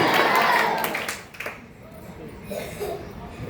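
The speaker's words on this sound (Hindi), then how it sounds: "बच्चों आपके धैर्य के लिए एक बार फिर से जोरदार तालियां।" Schoolchildren at an Independence Day (15 August) function clap in a loud, dense burst that fades after about a second and a half, leaving softer room noise and faint voices.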